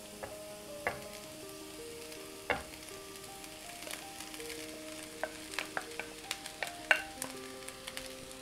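Steady sizzling as about 600 grams of rice goes into a hot pan of stir-fried vegetables for veg fried rice, with sharp spatula scrapes and clinks against the pan throughout; no voices.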